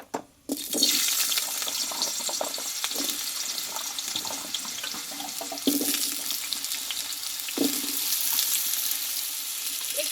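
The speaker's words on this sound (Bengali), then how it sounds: "এই তেলে এবারে আমি আলুটাকে কষে নেবো" Potato pieces frying in oil for a pumpkin dish, giving a steady close-up hiss and crackle that runs almost unbroken, with a few brief louder bursts and no talking.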